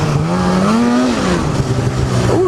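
A Polaris Assault 800 snowmobile engine revs loud and close in a field on the season's first ride, its pitch swelling and dipping in steady throttle blips.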